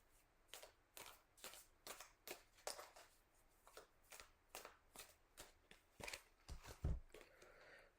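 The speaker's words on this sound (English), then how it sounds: "Let's shuffle it one more time." Tarot cards are shuffled in quick repeated riffles, a crisp flutter roughly twice a second, close and quiet, with no one speaking.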